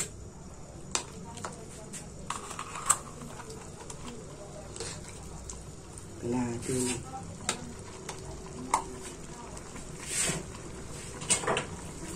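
Pork caldereta being stirred in a pan, with a low simmering sizzle, intermittent spoon scrapes and clinks against the metal, and a brief stretch of muffled voice-like sound partway through.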